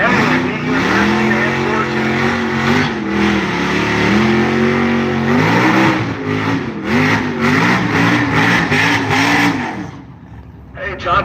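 A drag racing car does a long burnout at a street car takeover at a motorsports park. The loud, close engine wails and rises and falls over a crowd, then cuts out near the end.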